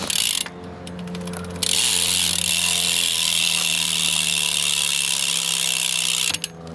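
Loud, rapid ratcheting click of a Profile Mini rear freewheel hub on a BMX bike, laced to an Alienation Runaway rim, buzzing continuously close up with no talk over it.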